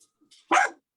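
A dog gives a single sharp, close bark after brief faint sounds, then falls silent.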